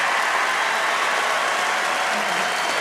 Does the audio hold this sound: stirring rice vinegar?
no